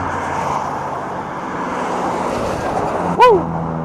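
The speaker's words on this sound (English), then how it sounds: "First orange car of the day." Car driving along a road, a steady, loud rush of tire and engine noise throughout, with a brief sharp squeak or chirp near the end.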